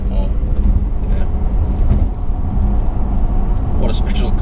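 Steady low road rumble and engine drone from a Bentley Flying Spur under acceleration, continuous and fairly loud throughout, with a voice talking over it.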